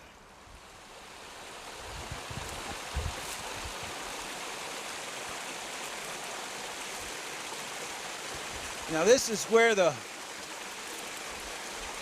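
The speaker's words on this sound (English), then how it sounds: "water's flowing down in here into this culvert" Water rushes steadily down into a culvert in brushy gold-prospecting country, a constant close wash of flow, with someone speaking briefly near the end.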